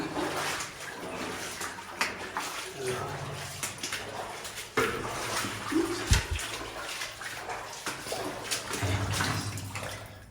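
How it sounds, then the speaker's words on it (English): Sloshing, splashing steps through shallow water in a mine, irregular and close, with occasional louder splashes and faint background voices. "I won't be walking in water for very long."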